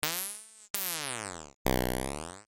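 Three sustained synthesizer tones with sweeping, buzzy harmonics, each note held about a second before cutting off, alone and close.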